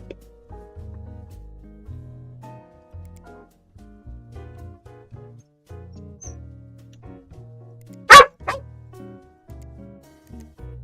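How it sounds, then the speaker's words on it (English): A puppy yips and whimpers over a steady hum of game sounds, then lets out one loud, sharp bark near the end. "There's a puppy being loud."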